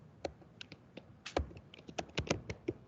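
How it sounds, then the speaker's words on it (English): Typing on a computer keyboard, a quick irregular run of crisp key taps, close and moderately loud, with no voices. "just type Streamlit"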